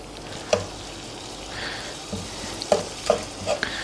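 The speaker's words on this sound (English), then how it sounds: "we're just gonna make sure that we stir in these alfalfa sprouts properly" Frozen alfalfa sprouts, clumped together, are stirred into a vegan meal in a pan: a few sharp scraping clicks over a soft, steady background hiss, close by and with no talking.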